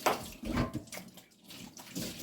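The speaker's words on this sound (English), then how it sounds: "I rinse it very well." Running water splashes over a dirty sneaker being rinsed, with bursts of gushing and spattering that rise and fall as the shoe is moved under the flow, close and fairly loud.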